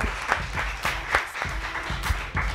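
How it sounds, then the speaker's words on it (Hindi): Applause for the actors of a stage play, in uneven bursts of clapping across a couple of seconds, moderately loud with a few sharper peaks and no talk over it. "प्ले के लिए ये जो आर्टिस्ट जिन्होंने इसमें काम किया, उन सब के लिए तालियां।"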